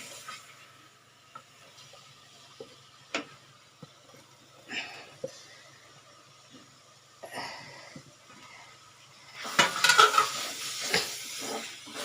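Vegetables being stirred into macaroni in a pan give soft, scattered scrapes and clinks, with a denser, louder burst of stirring and light sizzle near the end.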